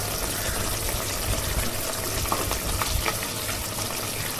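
Onions frying in a pan for sambar, a steady dense sizzle that stays even and fairly loud, with a few faint stirring clicks and no talking.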